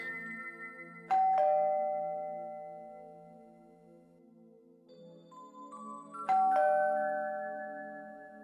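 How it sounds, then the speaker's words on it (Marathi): A doorbell rings twice, each a clear two-tone chime that rings out and slowly fades in a quiet room. "बेल वाजतीये"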